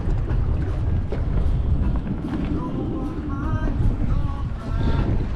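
Strong wind of roughly 15 to 20 knots buffeting a boat at sea off the Bahamas, a constant loud rumbling roar across the microphone with steady low-end gusting throughout.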